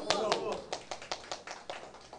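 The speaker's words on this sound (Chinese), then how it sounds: "拍手啦" Audience applause at a law-academy study seminar lecture, with a few sharp claps at first and then evenly spaced single claps that thin out, quiet and somewhat distant.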